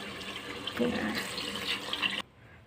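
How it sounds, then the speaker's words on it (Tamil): Water pours steadily into a cooking pot while chicken biryani with seeraga samba rice is being prepared, a continuous splashing stream close by that cuts off abruptly near the end. "தண்ணி ஊற்றிக்கலாம்"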